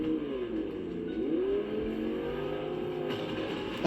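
Car engine driving in the Fortnite video game, a steady mid-pitched drone that rises and falls in pitch like revving, continuous and fairly loud throughout with a brief bump at the end.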